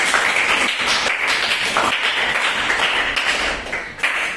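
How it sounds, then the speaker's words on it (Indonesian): Students in a school classroom clapping together for group three, a dense steady patter of many hands at close range that runs for about four seconds with no speech. "Kita kasih aplaus untuk kelompok 3."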